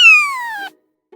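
A ventriloquist's voice imitates a kitten's mew: a single clear, high, whining call that slides downward over about half a second, followed by near silence.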